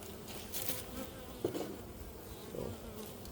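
Honey bees buzz around an opened hive during an inspection and feeding, a steady close drone of many insects with a few louder passes.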